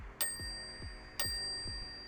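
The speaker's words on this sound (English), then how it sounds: "I find this bell to be a little dull. It might be the coating on it, might be the bronze that they use, but not the greatest sounding bell." A bronze PDW bicycle bell on a Wabi Thunder fixed gear bike is struck twice, each sharp ding ringing out with a sustained, slightly dull metallic tone, close and clear with no talking.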